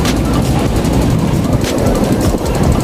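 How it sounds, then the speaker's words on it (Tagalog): A long train in Hong Kong rumbles past, a loud, steady, broadband roar with a faint rhythmic clatter throughout and no talking. "Pinapakita ko lang po kung gaano kahaba yung tren nila dito."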